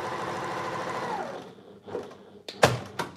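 Sewing machine running steadily as it stitches horizontal seams across a Tilda embroidery flower quilt, the motor whirring for over a second before slowing and stopping, followed by a few quiet handling clicks and thumps.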